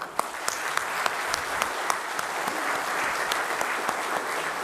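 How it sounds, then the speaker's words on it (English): Sustained crowd applause after a lecture at a National Technology Day convention, an even roar of clapping with a few sharper, nearer claps standing out. "give us a please large applaud for his lecture"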